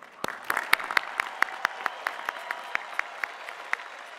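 Scattered applause from a modest crowd at a university commencement ceremony, individual claps distinct and fairly quiet, keeping a steady pace throughout.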